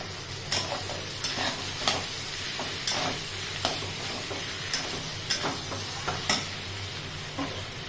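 Potato bhaji sautéing in a pan, a steady sizzle broken by repeated sharp stirring scrapes and clinks of a spoon roughly every half second, close and clear with no talking.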